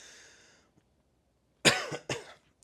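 Two sharp, close coughs in quick succession from a man after a stretch of near silence, loud and dry, with no talking.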